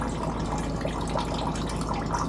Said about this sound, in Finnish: Vähän tulee vettä tuolta.